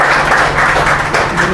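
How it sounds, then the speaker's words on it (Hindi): Loud, close applause from an audience at a talk on exam preparation, dense continuous clapping that fills the whole stretch with slight swells in intensity. "एक बार जोरदार तालियां बजा दें"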